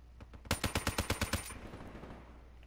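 Suppressed automatic gunfire in Call of Duty Black Ops III: a quick burst of about nine evenly spaced shots, fairly near but moderate in level, trailing into a faint tail.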